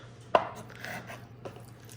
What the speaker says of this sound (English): I'm going to start cutting pieces basically in strips that I can put the bacon around